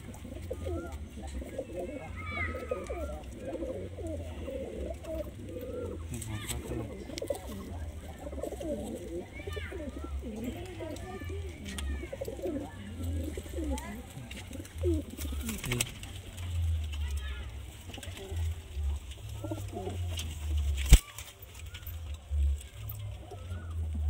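Pigeons coo in low, repeated throaty bursts throughout a loft, with occasional wing flaps and clatter, while a person talks intermittently over them.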